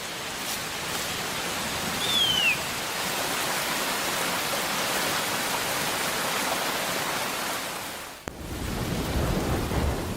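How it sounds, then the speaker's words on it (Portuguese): Heavy rain pouring steadily on the Amazon rainforest, a dense, even roar that dips briefly near the end before resuming, with a faint bird call early on. "As chuvas transformam a floresta amazônica e muitos de seus rios."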